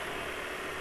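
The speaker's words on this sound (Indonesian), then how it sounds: "itu suara mesin masih halus" A steady engine idles smoothly and evenly after 1,900 km on Castrol oil, with a constant low hum and no knocking or roughness, heard up close.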